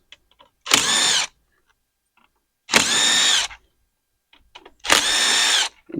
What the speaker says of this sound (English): I'm going to be using my little Cobalt speed ratchet. Remove these 4 screws.